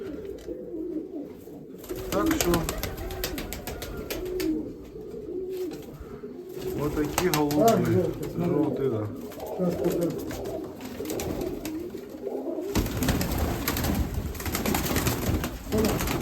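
Mykolaiv breed pigeons coo in a loft, soft repeated murmuring calls blending with wing rustles and handling noise close by, while people talk intermittently throughout.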